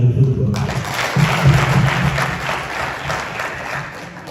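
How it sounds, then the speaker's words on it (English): An audience at a pitch day event in Gambia applauds, with dense clapping that starts abruptly and carries on steadily. It sounds close and full, then tapers slightly toward the end. "A round of applause to those who have been working to contribute to the development of Gambian football."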